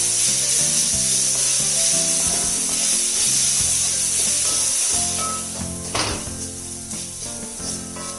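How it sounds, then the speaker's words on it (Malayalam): Grated coconut is stirred into a taro leaf stir-fry in a pan, with a spatula scraping and rubbing steadily over a tonal background; the scraping grows sparser toward the end. "നല്ലപോലെ നമുക്കൊന്ന് ഇളക്കി യോജിപ്പിച്ചെടുക്കാം"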